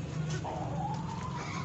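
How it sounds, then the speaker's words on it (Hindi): A hen clucks a few times close by, soft and brief, against a quiet background. "ये वाली मुर्गी"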